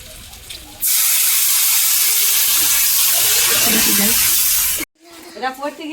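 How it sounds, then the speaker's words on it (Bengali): Water poured into a pan of potatoes sautéed with garlic, ginger and green chilli, bursting into a loud steady hiss for about four seconds before cutting off abruptly, with a voice speaking before and after. "এবারে কিন্তু জল দিয়ে দেবো"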